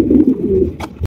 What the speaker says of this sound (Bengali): একজোড়া লক্ষ্মী কবুতর আপনারা দেখতেছেন, এটা হচ্ছে বিউটি কবুতর